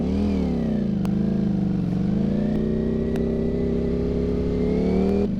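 A motorcycle engine runs loud and close, idling with uneven throbbing and rising and falling revs throughout, with a few sharp clicks over it.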